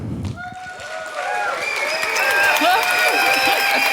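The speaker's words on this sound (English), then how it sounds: "That means get off your chair and clap and scream and yell." Conference audience applauding and cheering as two speakers walk on stage, clapping swelling steadily into a loud, continuous roar with scattered whoops and voices.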